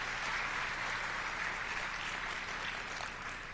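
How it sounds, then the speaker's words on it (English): An awards-night audience gives steady applause for Black Knight Award winners, a dense, even roar of clapping from a sizeable crowd with no talk over it. "How about a round of applause for all these Black Knight Award winners"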